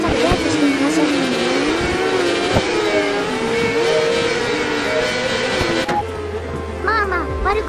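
A Kawasaki Ninja motorcycle races in RIDE 4, its engine screaming loud and close with pitch rising and falling through gear shifts, someone talking over the high revving whine.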